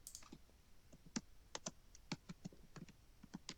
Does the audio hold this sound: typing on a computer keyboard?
yes